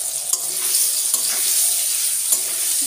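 Amra chutney with salt and turmeric stirred in a pan over a constant close sizzle, with a few light spoon knocks against the pan.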